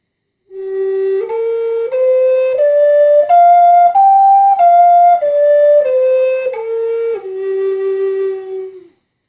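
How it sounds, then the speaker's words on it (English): A flute plays a pentatonic minor scale smoothly up and back down, each note sustained and connected, close and clear with no other sounds. "the pentatonic minor scale on one of our flutes"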